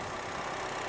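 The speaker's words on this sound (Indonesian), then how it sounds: "Dan ini suara mesinnya" A 2008 Honda Jazz GE8 with a 1500 cc i-VTEC engine runs at a steady, smooth idle, a faint, even hum with no knocks or rough sounds.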